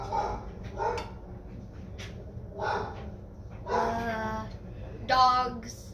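A dog barks in several short separate bursts, moderately loud over a steady low background hum in a home kitchen, with occasional whimpering yips mixed in.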